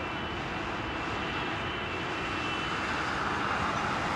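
A C-130 transport aircraft taxis at Anchorage airport, its turboprop engines giving a steady, loud, broad drone that holds evenly throughout with no talk.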